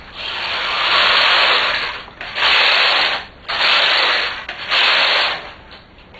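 A knitting machine carriage is pushed back and forth across the needle bed for four rows, each pass a loud, close, raspy whoosh with brief pauses between.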